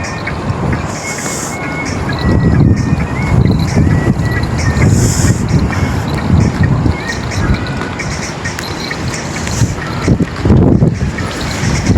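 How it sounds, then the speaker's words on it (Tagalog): Wind blows steadily outdoors on a cold day among bare, leafless trees in Japan, a continuous rumbling rush with microphone buffeting that swells in gusts near the start and again around the ten-second mark. "Oh, may hangin pa."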